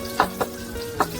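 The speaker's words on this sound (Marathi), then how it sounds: "हलवा फ्राय किती मस्त दिसतोय। त्याचा हा चुरचुर आवाज आहे ना" Halwa pomfret fish frying in a pan gives a steady close sizzle with a few sharper crackles spaced through it.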